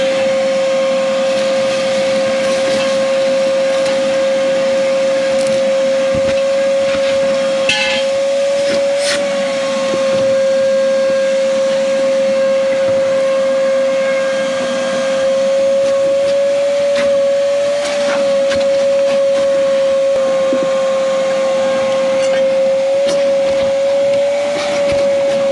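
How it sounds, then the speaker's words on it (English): A shop vacuum sucks up debris from the dashboard of a 1995 Chevrolet Impala SS during an evaporator core replacement, a loud continuous whining hiss with a steady high tone, running unbroken with occasional rattles of material. "let me get a vacuum all this up"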